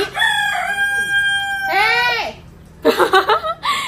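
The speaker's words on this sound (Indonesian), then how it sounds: "ayam aku makin gila" A rooster crows loudly and close by in several drawn-out, harmonic calls, followed by a burst of choppy, stuttering clucks.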